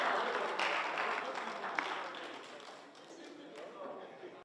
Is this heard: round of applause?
yes